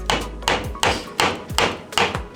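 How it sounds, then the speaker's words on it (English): Six sharp metal impacts at an even, steady rhythm as a Honda Civic EG CV joint is struck at an angle to free the drive shaft, each ringing briefly and decaying, close and loud with no talk. "we decided to angle the CV joint and hit it that way"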